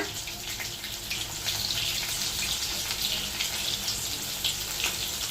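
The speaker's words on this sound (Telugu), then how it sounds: "మంచిగా అయితే నూనెలో వేగనిద్దాము" Chicken lollipops frying in hot oil, a steady bright sizzle with crackling pops running continuously and fairly close, with no talking over it.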